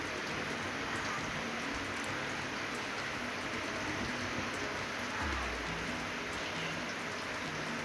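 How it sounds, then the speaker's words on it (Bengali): Morning rain falls steadily as a soft, even hiss with no clear breaks, moderately faint and continuous throughout without any voices. "খুব সুন্দর সকালে বৃষ্টি হচ্ছে"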